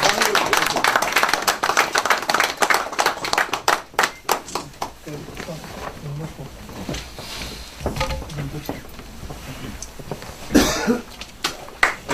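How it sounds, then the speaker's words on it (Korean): Scattered clapping from a small crowd at a Gangneung press conference announcing an opposition alliance between two candidates, with sharp hand claps and some coughs mixed with people talking nearby. "박수 한번 주세요."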